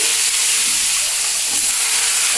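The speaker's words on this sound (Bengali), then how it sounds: "এই আলুটাকে আগে ভেজে নিচ্ছি" Potatoes frying in hot oil with five-spice seeds of fennel and black cumin, a loud, steady, close hiss of bubbling oil throughout.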